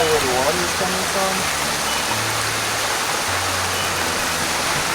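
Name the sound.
water running through a neighborhood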